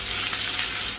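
Onions hit a pan of hot oil with whole cinnamon, cloves, cardamom and green chillies, giving a loud continuous sizzle that cuts off abruptly at the end.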